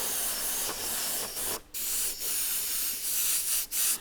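Airbrush spraying paint in soft passes to blend the edges of a skull design, a steady close hiss broken by a few brief pauses as the trigger is released.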